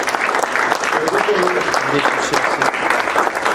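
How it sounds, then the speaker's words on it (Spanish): A church congregation claps steadily in praise during a Spanish-language worship service, a sustained, fairly loud wash of hand claps with voices mixed in. "Un aplauso."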